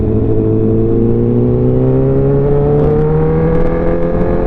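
A Honda CBR 1000 SP racing motorcycle with Ohlins suspension, Brembo brakes and OZ wheels, its engine droning loud and close while riding, pitch rising smoothly through the revs as it accelerates, with no talking.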